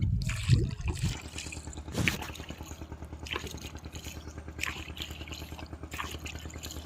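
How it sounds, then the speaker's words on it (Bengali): Oars dip into a big river in the Sundarbans as a small boat is rowed, producing soft, irregular splashes and trickling drips over a steady low hum, fairly quiet and without talk. "মা দাঁড় দিচ্ছে দাঁড় না দিলে নবে এগিয়ে নিয়ে যাওয়া সম্ভব নয়"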